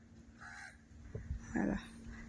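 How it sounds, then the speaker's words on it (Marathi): Crows cawing outdoors around a rural village home in the evening, a few harsh calls at moderate distance over faint background hiss. "पक्षी बोलायला लागल्यात"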